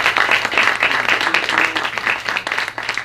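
An audience breaks into loud, dense applause, sustained clapping filling the room throughout with a faint voice or cheer mixed in.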